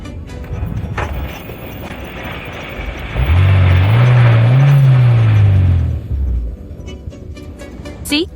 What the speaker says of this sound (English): It runs fine, but when I release the gas, see, it stalls on its own.